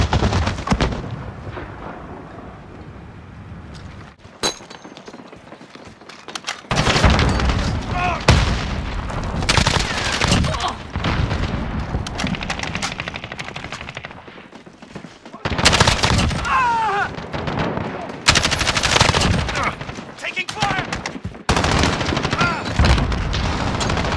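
Call of Duty Modern Warfare gunfire: heavy bursts of rifle and machine-gun fire with booming blasts, loud and close, in long stretches broken by brief lulls, with voices talking over the action.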